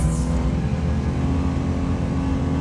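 A Suzuki Carry mini truck fitted with tracks drives through snow in third gear at about 20 km/h, its engine droning steadily and loudly up close with a constant low rumble throughout.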